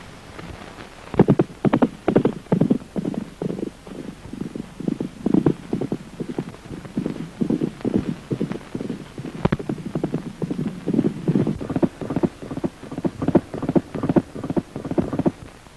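Horses race at a full gallop, a loud steady run of hoofbeats in a quick, repeated rhythm of clip-clop strikes that stays close for the whole stretch, with no voices.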